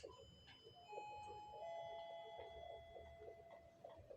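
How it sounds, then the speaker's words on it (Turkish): A doorbell chimes with two ringing tones that sustain and fade, heard faintly in a quiet room with light background noise. "Zil sesi geliyor."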